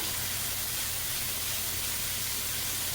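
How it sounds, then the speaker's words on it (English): Water hissing and steaming in a hot wok of beef stir fry, a steady loud broadband hiss with no talk over it. "A little bit of water just to steam it up, about half a cup. Let that steam through."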